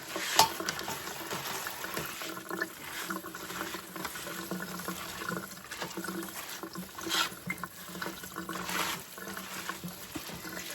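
Running water rinsing salted cabbage in a bowl, a steady close splashing wash that goes on without a break, with no talk.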